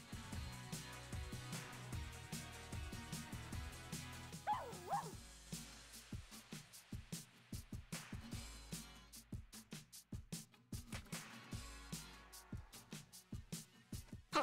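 Puppies in the Barbie pet rescue video game yip and whimper amid a steady stream of game sound effects, all fairly quiet.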